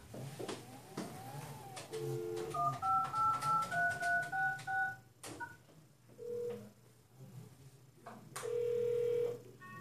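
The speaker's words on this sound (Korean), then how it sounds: "제가 삼성전자 서비스 센터로 전화를 해보겠습니다" A telephone dials a Samsung service center: a string of clear keypad tones in quick succession, a couple of brief beeps, then a longer electronic tone, with a few clicks and handling noises in between.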